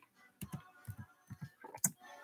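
Quick bursts of keyboard typing, a few clustered key clicks in short pairs, close and fairly quiet.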